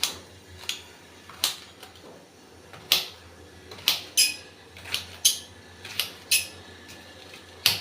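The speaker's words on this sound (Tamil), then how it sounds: "கட் பண்ணிக்கிறேன் இதை அப்படி அப்படியே கட் பண்ணினாலே போகிறோம்" A knife chopping banana flower on a board gives a series of crisp, separate cuts at an uneven rhythm, roughly a dozen sharp taps close by with quiet gaps between.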